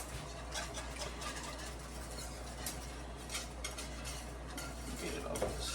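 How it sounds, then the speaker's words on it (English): A whisk stirs a sauce mix for rasta pasta in a bowl, a steady close scraping and tapping against the sides, with a faint constant hum underneath. "Let me use my whisk for this part."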